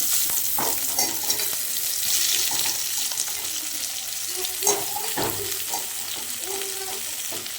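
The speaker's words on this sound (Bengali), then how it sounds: "আলুগুলো ভাজা হয়ে গেছে, এবার ফুলকপিগুলো দিয়ে দেবো।" Cauliflower florets sizzle steadily in hot oil after potatoes have been fried, with the broad hiss of frying under occasional clinks and stirring knocks, close and continuous with no talk.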